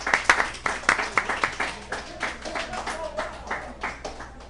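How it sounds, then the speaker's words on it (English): A small crowd at a Pittsburgh sports bar claps in a brisk, uneven burst of applause for a guest, loud at first and then thinning out over a few seconds. "Give a hand clap for Angel Schifino."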